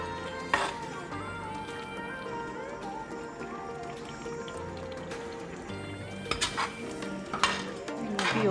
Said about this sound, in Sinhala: යෝගට් ටික එකතු කරලා නැවත හොඳින් මිශ්‍ර කරන්න.